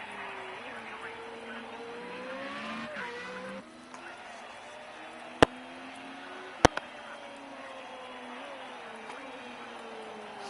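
Formula Renault race cars in Project Cars 2 at the Red Bull Ring, several engines whining and shifting together at a distance in a steady blended drone, with two sharp clicks partway through.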